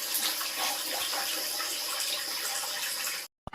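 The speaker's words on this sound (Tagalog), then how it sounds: "Agas ng tubig." Water pours steadily from a tap in a rural home, a close, continuous hiss of flowing water that cuts off abruptly near the end.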